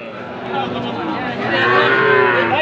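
A young Sahiwal heifer calf lows at a busy cattle market, a drawn-out moo rising in loudness near the end amid crowd chatter.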